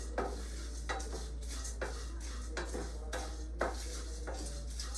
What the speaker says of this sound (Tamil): கருவேப்பிலையை போட்டுங்க, அதான் சடச்சடன்னு இல்லை